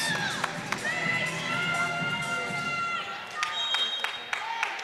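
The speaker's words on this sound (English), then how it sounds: "Hear DePaul screaming right there." Crowd of fans screaming and cheering loudly at a college volleyball match between Bowling Green and DePaul, with high shouts and whistling over a dense roar and a few sharp claps.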